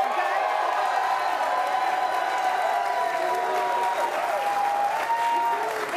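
Studio audience on a sports debate show breaking into loud, sustained applause with whoops and cheering voices mixed in, holding steady throughout.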